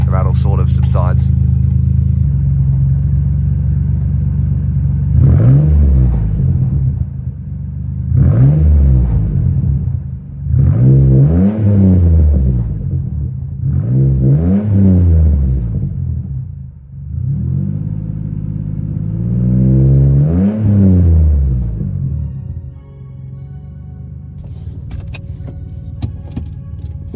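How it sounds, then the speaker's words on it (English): A Ford Explorer engine runs and is revved in a series of about six swells, its rear exhaust section loose and held up with a cable tie, giving a low rumbling rattle while someone talks. "there is a slight rattle because the rear section of the exhaust is currently being held up with a cable tie"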